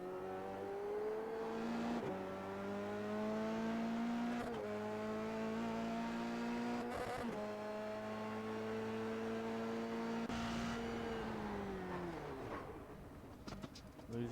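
Onboard audio from an SCCA Formula Regional Americas race car on a qualifying lap, the engine droning steadily and loudly as it climbs through the revs, with sharp pitch drops at each gear change.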